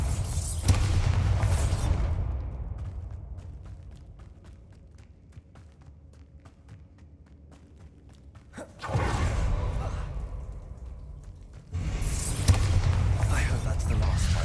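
A Bombarda spell blasts in the video game Hogwarts Legacy, three heavy booming bursts with a quiet, rumbling gap between the first and second and a short gap before the third, under occasional light game sounds.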